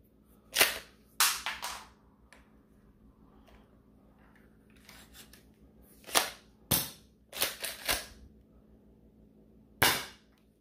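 An XYL M870 shell-ejecting toy shotgun blaster fires darts in about eight sharp, loud snaps, some in quick pairs and others spaced by a few seconds of near silence.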